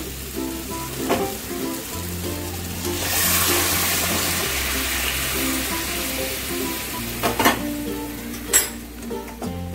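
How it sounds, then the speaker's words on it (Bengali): Hot water is poured into a pan of potatoes frying with spices, and the steady sizzle surges into a loud rushing hiss before settling back. Utensils clatter nearby. "এবার আমি দিয়ে দেবো গরম জল।"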